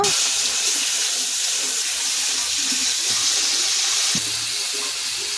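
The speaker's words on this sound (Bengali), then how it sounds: "চিংড়ি মাছটা ভেজে নেব।" Shrimp fry in hot oil in a wok with a constant, loud, dense hiss that holds steady throughout, with no clear speech over it.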